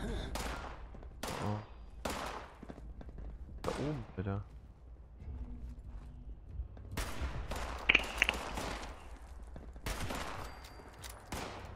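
Weapon bursts in Fallout 76 come as separate loud clusters of shots with short gaps, mixed with game sounds, and someone talks between them.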